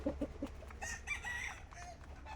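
Gamefowl chickens on a farm, a few quick clucks followed by a rooster crowing at moderate distance, with other birds faintly in the background.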